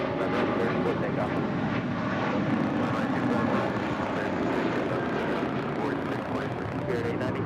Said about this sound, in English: That was Spirit 890 departing to Louisville on an A321